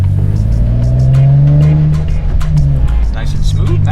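A car with a VQ37VHR engine, recently fixed for a P0021 code, pulls away and accelerates with a steady, rising engine drone and faint tire noise, while voices talk over it.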